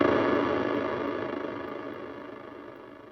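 A long, washy reverb tail from a Mooer SkyVerb pedal with decay turned all the way up, slowly decaying, grainy and somewhat harsh, fading gradually over a few seconds with no playing on top.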